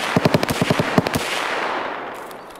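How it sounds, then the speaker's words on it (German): Rapid burst of about ten sharp gunshots in the Escape from Tarkov shooter game, fired from around a red hall, loud and close at first, then fading into a lingering echo and quiet. "die Schüsse kamen aus der Roten Halle oder vor der Roten Halle"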